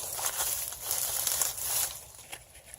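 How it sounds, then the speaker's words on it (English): Scissors snip and crunch through dry, dead daisy stems during spring garden cleanup, producing a close, continuous crinkly rustling of brittle foliage with a few sharper crackles. "So I'm going to take my scissors and just cut all this dead stuff off."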